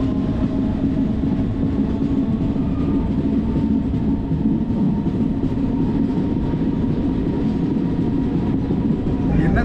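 A passenger train in Kashmir rumbles steadily along the tracks near Baramulla, a loud, continuous low roar with faint rattling carriages heard from inside.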